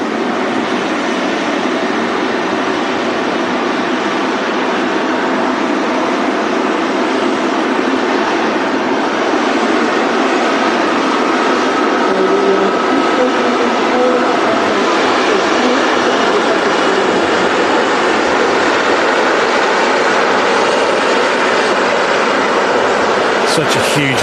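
A large Qatar airliner at Manchester Airport produces a broad, loud, continuous jet roar that holds steady for the whole stretch, heard from nearby.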